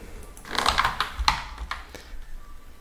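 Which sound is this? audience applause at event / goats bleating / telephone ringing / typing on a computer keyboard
typing on a computer keyboard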